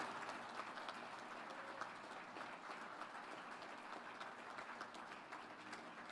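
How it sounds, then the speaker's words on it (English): Applause rises from a crowd at a shipyard christening ceremony for the General Dynamics NASSCO ship John Lewis, honoring the NASSCO red-shirt team: steady, even clapping, soft and somewhat distant, with no talk over it. "So all the individuals here that have NASSCO Red Shirts, give them a great round of applause."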